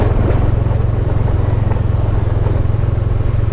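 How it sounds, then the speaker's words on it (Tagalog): A farm tractor's engine runs close and loud with a steady, fast low chugging throb that holds without pause. "Ayan na ang traktora."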